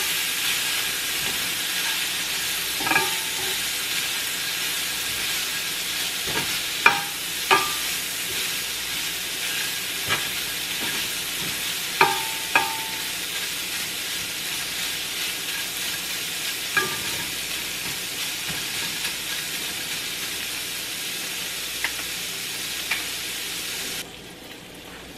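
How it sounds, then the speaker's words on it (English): Beef sausage frying in a pan for spaghetti, a steady broadband sizzle and hiss running throughout, with scattered sharp pops and crackles and occasional clinks of stirring; close and moderately loud, with no talking. "This is what the sausage is looking like that I fry up, the beef sausage."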